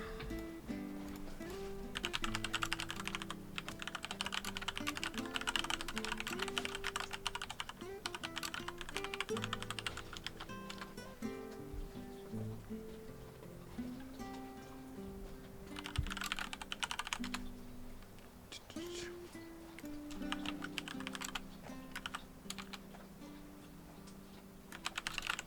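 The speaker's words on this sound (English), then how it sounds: "Angry typing." Rapid, forceful keystrokes clatter on a computer keyboard in bursts and flurries, fairly close and prominent over faint tonal background music, with no talking.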